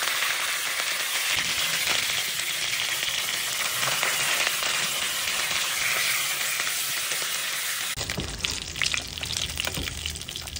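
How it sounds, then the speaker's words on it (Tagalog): Tambakol fish frying in a pan, a steady dense sizzle and crackle of hot oil that continues throughout, turning rougher and more bubbling near the end. "second batch na natin itong pagpiprito"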